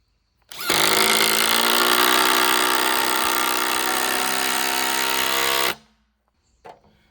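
A brushless impact driver runs on its original battery, giving one loud, sustained buzzing whir for about five seconds before it stops abruptly.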